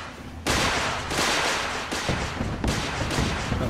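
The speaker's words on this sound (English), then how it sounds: "We can figure out what guns are firing from her." Gunfire from the guns on Spectacle Island in Fallout 4, a series of loud sharp blasts and bursts at irregular intervals, several heavy shots layered over continuous crackling fire.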